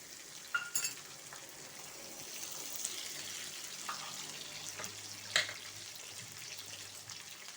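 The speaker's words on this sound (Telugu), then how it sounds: "మనకు ఆనియన్స్ వేగినాయండి" Onions with dried and green chilies frying in a pan for a mixed vegetable curry, a steady soft sizzle with a few louder clinks and stirring scrapes, close by and with no talk.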